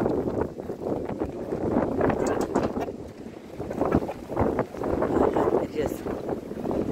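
Strong gusty morning wind buffets the microphone in uneven surges while people talk nearby outdoors.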